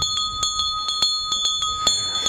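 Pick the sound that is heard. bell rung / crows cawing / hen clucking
bell rung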